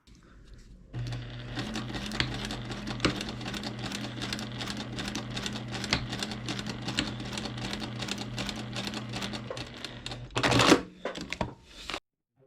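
A sewing machine stitches a line through paper and fabric for foundation paper piecing, running with a rapid, even mechanical chatter for about ten seconds before a brief louder burst and a stop.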